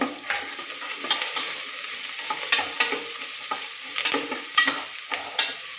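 Chopped onion and green chili frying in a pan, a steady close sizzle with repeated scraping taps from stirring throughout, and no one talking.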